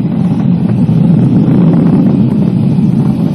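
Falcon 9 rocket engines roar during a SpaceX Dragon launch, heard as a loud, steady, broadband rumble that stays continuous and buffeted throughout, with no voices.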